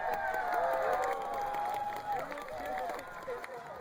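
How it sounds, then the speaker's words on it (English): A large crowd at a League of Legends esports match cheers and shouts in a sustained roar, rising voices overlapping, with a commentator talking over the noise. "The crowd goes wild."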